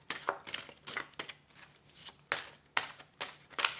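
Tarot cards are shuffled by hand in a steady series of crisp riffling bursts and soft slaps, close and alone with no talking.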